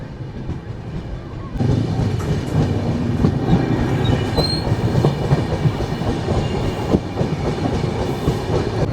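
Pavan Express rolls out of Ballia toward Chapra Junction, its wagons rumbling and clattering steadily close by, with faint wheel squeals and scattered background voices.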